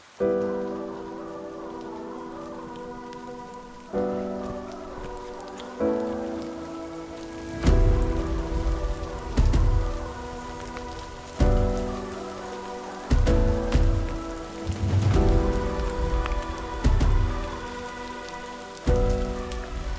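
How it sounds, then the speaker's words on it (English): Rain falls steadily at a campsite in Springbrook National Park, Queensland, drumming loudly and close on a surface. Heavier gusts of drops arrive in repeated surges every couple of seconds over a musical, tonal backdrop, with no talking. "It's supposed to be raining all day and all tomorrow."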